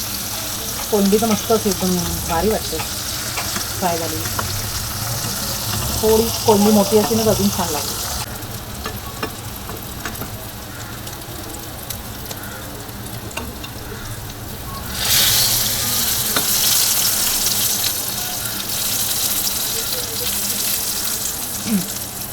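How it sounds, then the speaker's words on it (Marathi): Fish frying in a pan, a steady close sizzle that runs throughout with clinks of stirring, while people talk over the first several seconds and a brighter hiss swells near the end. "मच्छी वन साईड फ्राय झाली तर वन साईड अजून फ्राय व्हायची आहे"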